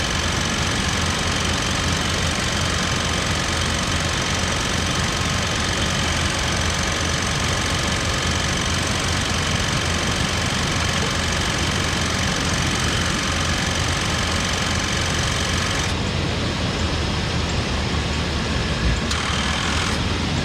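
An air-conditioning compressor runs on a 1988 Chevrolet Suburban, a continuous loud mechanical drone with engine hum that holds steady for the whole stretch and shifts slightly in tone near the end.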